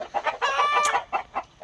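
Chickens inside a coop on a morning, clucking and squawking close by in a quick series of calls, with one longer drawn-out cry in the middle; no talking.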